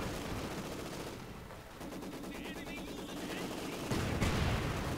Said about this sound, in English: Here goes my mortar.